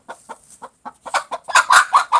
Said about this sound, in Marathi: माझी कोंबडी आहे ना तिथे इथे येऊन खुराडत बसले आहे